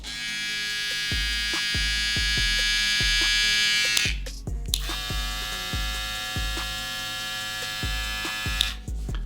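A Babyliss LithiumFX hair clipper or trimmer runs steadily with a bright electric buzz, close and alone, then briefly cuts out around the middle before starting again, with a few light handling taps throughout.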